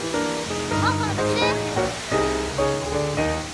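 Spray and roar of Ohkawa waterfall on Yakushima, a loud, continuous broadband rush close by, with a person talking over it throughout.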